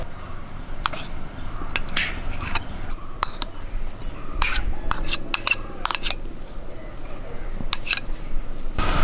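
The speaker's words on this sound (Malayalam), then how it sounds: "നമുക്ക് കുറേശ്ശെ പാനി ഒഴിച്ച് ഒന്ന് ഇളക്കിയെടുക്കാം" A spoon works through mashed banana and coconut batter in a bowl for kumbilappam, giving a run of sharp, irregular clicks and taps against the bowl over a low steady background.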